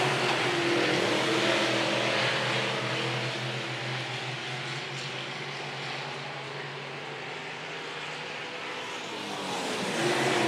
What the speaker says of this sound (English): 78 of Justin Bassa screams down the front stretch, leads.